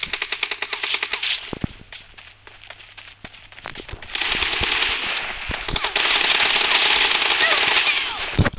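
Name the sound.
gunfire in the video game PUBG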